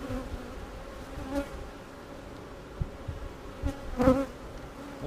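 Honeybees buzzing steadily around an open hive during a March inspection, a continuous close hum with a few louder passes as individual bees fly near.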